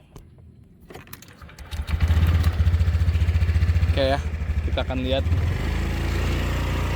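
A motorcycle touring the Tenjo City Premiere housing construction site starts up and settles into a steady, close engine rumble that runs to the end, with people talking over it.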